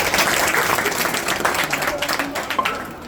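Audience applause fills a school annual day celebration after a student stage performance, dense steady clapping from a large crowd throughout, loud and close, tapering slightly near the end.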